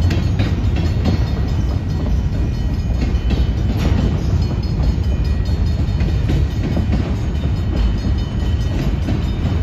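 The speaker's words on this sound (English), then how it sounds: "I'm not gonna stop recording until this train, like the last car passes by and the crossing gate finishes raising up." A Union Pacific freight train rolls past a railroad crossing in Algona, Iowa, a loud, close, continuous rumble with rhythmic wheel clatter from the cars, heard alone without talk.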